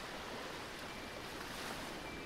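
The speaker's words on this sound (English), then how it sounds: "the sea foam thins out, coming in and covering shells and pieces of seaweed, then retreating back into the ocean, only to come in again" Ocean waves wash onto a shell- and seaweed-strewn shore at sunset, forming a steady, soft wash of surf with no distinct breaks and no voices.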